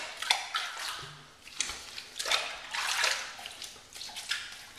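A safety razor is rinsed in water, heard as a series of close, quiet splashes and swishes in short irregular bursts, with brief trickling between them.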